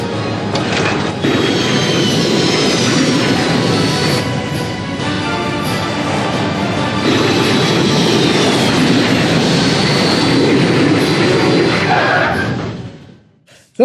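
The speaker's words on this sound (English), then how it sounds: "She lands the plane. It's a beautiful, picture-perfect landing." An airplane lands with a steady, loud engine roar and whining turbine tones holding for about twelve seconds before fading abruptly to quiet.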